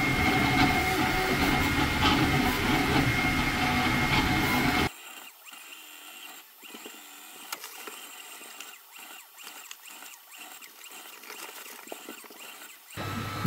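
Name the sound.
Creality Ender 3 V3 3D printer printing a Benchy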